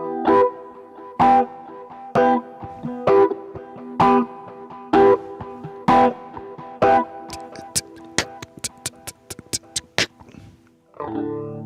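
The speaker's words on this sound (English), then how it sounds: "I love the sound of guitars sometimes with the tone rolled off, just with some honky distortion on it" An electric guitar with the tone rolled off and honky distortion plays steady chopped rhythmic chords, then a burst of quick picked stabs. The playing is close and loud and there is no talking.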